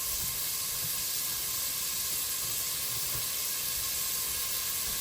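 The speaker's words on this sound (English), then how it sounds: "Just gonna not brown them, just saute them" Vegetables sauté in a hot pan without browning, producing a steady, even sizzling hiss that carries on throughout with no pauses.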